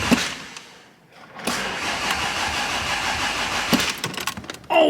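A Triumph TR4 engine starts up: after a brief lull it catches and settles into a steady, fairly loud running sound close by, with a short clatter near the end.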